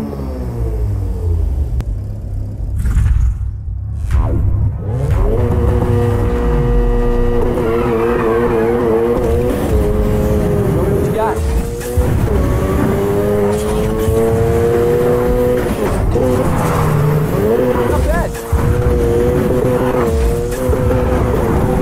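Race car engine in Need for Speed Heat roaring and accelerating through rising gear sweeps, with tire squeal and skidding, loud and continuous against game music.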